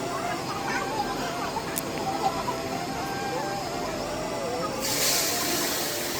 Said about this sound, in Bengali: চলো, মাছ ভাজতে থাকুক